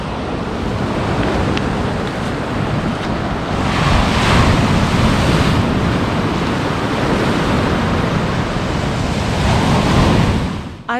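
Waves wash continuously onto a beach of black stones on the Black Sea coast in Georgia, a loud, close roar of surf mixed with wind buffeting the microphone, swelling a little midway.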